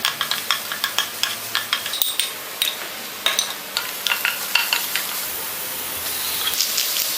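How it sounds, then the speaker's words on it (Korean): Onion and garlic stir-fry in a pan with a soft sizzle under a quick, regular run of spatula taps and scrapes against the metal, close-up, with no voices. "양파와 마늘을 넣고 달달달 볶아주세요"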